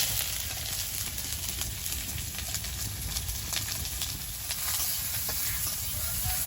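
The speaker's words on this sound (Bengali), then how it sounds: "রসুন তো তেলের মধ্যে দিয়ে দেবো গোটা রসুন কুচি আর পেঁয়াজ কুচি" Whole garlic cloves with chopped garlic and onion frying in hot oil, a steady dense sizzle with crackling pops running throughout, close and fairly loud with no voices.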